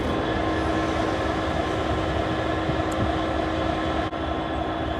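Southern class 377 electric unit 377325 pulls into Tonbridge station, a steady broadband rumble of traction motors and wheels on rail holding loud and constant throughout, with no voices.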